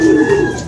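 A racing pigeon hen gives a short, soft, close coo, a single low throaty note held briefly with no talking.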